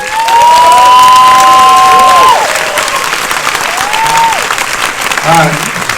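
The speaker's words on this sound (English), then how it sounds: "Another round of applause for Heather and Amanda." An audience at a horror film anniversary screening applauds and cheers for two guest actresses, loud clapping with whistles and shouts rising over a host's amplified voice, then easing into scattered claps.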